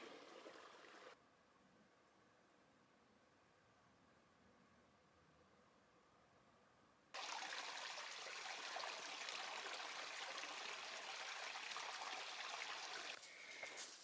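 A creek flows steadily along a hiking trail on the Continental Divide, a constant broadband rush that drops quieter after a second and swells louder again partway through, with no talk.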